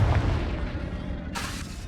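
Blasting explosion from the Confringo spell in Hogwarts Legacy, a deep rumbling boom followed by a sharper burst partway through, loud and close with no talk.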